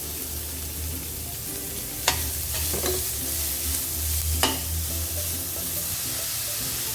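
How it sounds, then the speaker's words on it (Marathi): Chopped onions fry in oil with chillies, curry leaves and asafoetida, giving a close, steady sizzle broken by a few sharp scraping stirs of a spoon against the pan. "दोन मोठे कांदे घेतलेले बारीक कापून ते परतून घेऊ"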